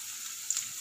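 Green chilies in hot oil for a jackfruit seed gravy, a faint steady hiss with a tiny spit of sizzle halfway through.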